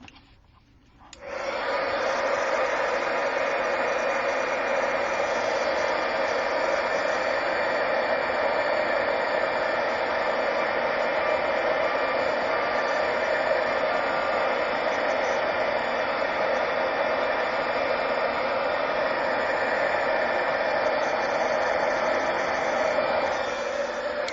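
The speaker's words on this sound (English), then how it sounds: "And get the heat gun." Heat gun switching on and blowing steadily, a constant close hiss of air that starts after a brief quiet moment and holds evenly to the end.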